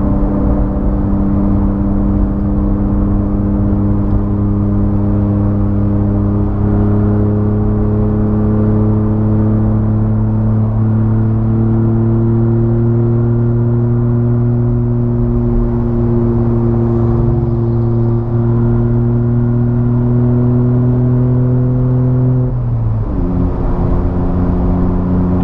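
A Toyota Hilux SW4 3.0 pickup accelerates hard in a roll-on race against a VW up TSI, its engine droning steadily louder and rising in pitch through a long pull before a sudden gear change near the end.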